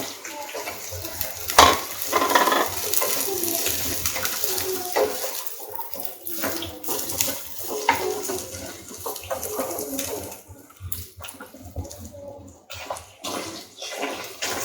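Cabbage, carrot and capsicum being stir-fried with onions in a pan, a close steady sizzle and hiss with occasional clatter of stirring, fading and rising over a quarter minute.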